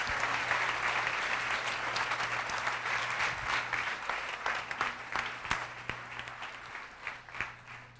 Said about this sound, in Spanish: Dale un aplauso, por favor.